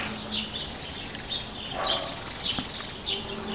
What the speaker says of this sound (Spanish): Capaz que también se están escuchando el ruido de los pájaros